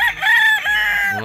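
A gamecock rooster crows loudly and close up, one drawn-out cock-a-doodle-doo with a rising and falling pitch.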